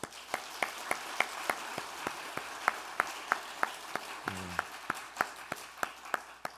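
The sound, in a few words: congregation applause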